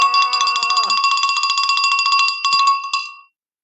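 A metallic hand bell rings rapidly and repeatedly for about three seconds in a classroom, bright and close, then stops abruptly.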